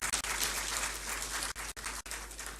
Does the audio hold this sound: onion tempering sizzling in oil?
no